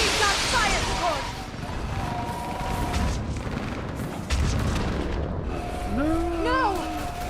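Artillery fire support pounding the battlefield in Mass Effect 3: a dense roar of distant booms and rumbling blasts runs throughout, with voices talking over it.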